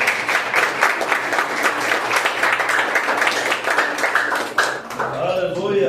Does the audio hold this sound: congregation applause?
yes